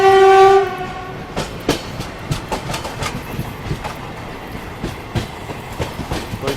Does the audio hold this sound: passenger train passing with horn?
yes